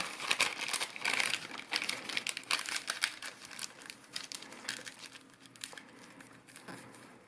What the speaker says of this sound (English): I'm gonna fold preliminary bases from the corners here by inside reverse folding along the crease line